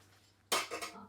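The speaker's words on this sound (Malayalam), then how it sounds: "ഉലർത്താനുള്ള പാത്രം ഇങ്ങോട്ട് എടുത്ത് വെക്കാം." A cooking pan for roasting beef in Kerala style is set down with one sudden metallic clank, followed by a couple of lighter clinks against the stovetop in a quiet kitchen.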